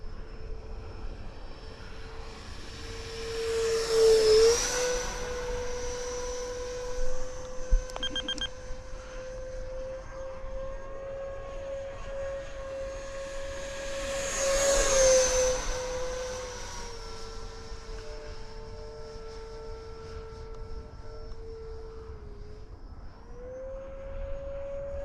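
A 70mm EDF FF 35V2 RC jet cruises at about a third throttle with a steady whining fan tone, swelling twice as it makes close passes and fading between them, with a brief beep partway.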